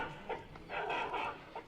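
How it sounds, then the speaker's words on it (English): A robotic dog built by three university students at Denkule Ejasin University gives a few short, distant bark-like yelps with a slightly synthetic tone, faint against a noisy background. "3 university students who've now designed and built a robotic dog that walks and barks almost as the organic equivalent would"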